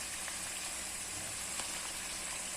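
Sautéed beef with tomato paste sizzles faintly and steadily in a pan as cream is added, a soft continuous crackle with no talking.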